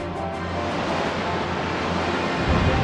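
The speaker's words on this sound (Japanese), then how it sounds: "ここで波乗りだ。" Surf water-attack sound effect from the Pokémon Stadium 2 battle game, a loud, sustained rushing wash of crashing-wave noise that swells slightly near the end, heard alone without talk.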